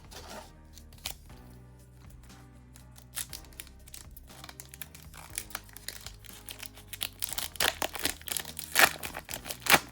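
Foil wrappers of One Piece card booster packs crinkle and tear as they are opened, quiet rustles at first building to louder, denser crackling bursts near the end.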